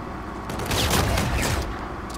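Bursts of rapid gunfire in a first-person shooter game with a Volk Goliath weapon, a loud, dense volley swelling in the middle and continuing steadily to the end, with no talk.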